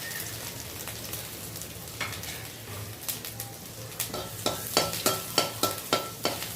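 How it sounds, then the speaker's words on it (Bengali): Cumin seeds and chopped ginger sizzling in hot oil for samosa filling while a spatula stirs, steady frying hiss building into a run of regular scraping clicks near the end, fairly close with no voices. "নাড়াচাড়া দিয়ে ভালো করে ভেজে নেব।"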